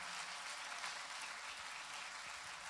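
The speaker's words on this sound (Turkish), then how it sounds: "Aynı alkışları bir kez daha rica ediyoruz." Audience applause at a Roman orchestra concert in Nilüfer, a dense, steady wash of clapping heard from a distance, fairly soft and even throughout, with no voices on top.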